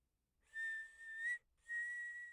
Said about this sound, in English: They even start whistling.